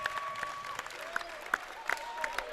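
At a high school varsity basketball game, traveling fans applaud steadily in a large gym, with the crowd's clapping fairly distant and moderate in level, plus whistle-like tones and occasional sharper sounds mixed in.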